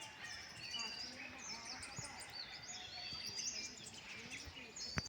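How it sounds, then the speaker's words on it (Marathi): Small birds chirp and twitter in a quiet village morning, with many thin, high calls overlapping at a distance over a faint steady background, fairly soft throughout. "गावाकडचं एकदम शांत वातावरण बघा मस्त पक्ष्यांचा आवाज"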